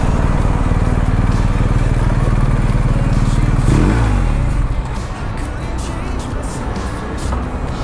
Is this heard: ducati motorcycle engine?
yes